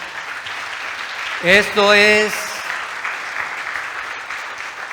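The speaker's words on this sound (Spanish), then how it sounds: "Démosle un aplauso al Señor" A church congregation at a worship service keeps up steady applause in the background while someone briefly speaks over it at close range.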